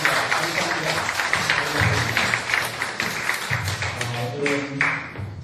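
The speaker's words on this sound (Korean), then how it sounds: "하나님께 큰 박수로 영광을 올리겠습니다" A church congregation at a mission gathering gives a big round of applause, a moderate mass of clapping that swells and dips, with low murmuring voices and a few sharper claps near the end.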